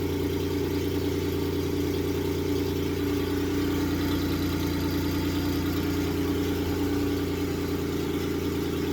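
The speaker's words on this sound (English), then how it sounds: "it hasn't been started in more than a week, so this is gonna take some time before this one is gonna idle down." A car engine idles high and steady after a cold start, having sat unused for more than a week. The droning hum is close and unchanging, with no voices.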